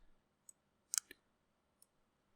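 A few sharp, quiet computer mouse clicks, a single one and then a close double, spaced out over near silence while Windows 10 is installed on a PC.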